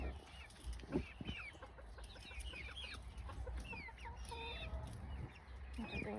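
Buff hens cluck and chirp softly in a backyard at bedtime, a busy overlapping chatter of short calls over steady outdoor ambience.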